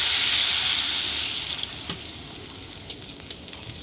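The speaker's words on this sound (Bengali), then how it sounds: "জল দিয়ে দেবো।" Water pours into a pan of cauliflower cooked in spiced masala for a snakehead fish curry, a strong steady splashing rush that fades after a second or so, leaving a low simmer with a few small clinks and pops.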